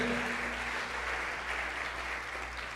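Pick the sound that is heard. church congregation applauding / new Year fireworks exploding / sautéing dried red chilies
church congregation applauding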